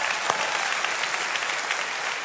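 Church congregation applauding as a praise offering, a dense steady wash of many hands clapping, loud and sustained, with no speech over it.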